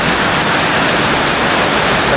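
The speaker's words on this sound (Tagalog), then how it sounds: "konting ulan lang naman dito eh" Steady rain falls outdoors, a loud, dense, even hiss of drops with no pause and no voices.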